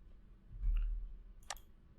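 A computer mouse clicks once, a short sharp click near the end, heard close up in a quiet room with a faint low background hum.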